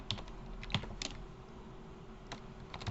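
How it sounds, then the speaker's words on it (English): Computer keyboard typing in short bursts of a few keystrokes, close and fairly quiet, with pauses in between, while entering a node name in Maya rigging software. "So I'm just going to type that in"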